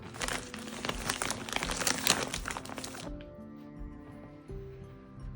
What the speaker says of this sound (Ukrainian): Вологі серветки, вологий туалетний папір.